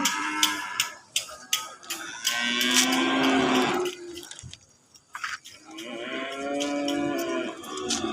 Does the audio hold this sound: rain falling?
no